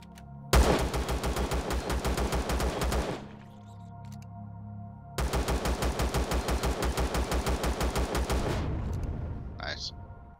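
Turret in the space-survival game Empyrion fires two long, rapid automatic bursts of evenly spaced heavy shots, separated by a short lull, followed by a brief high whine at the end.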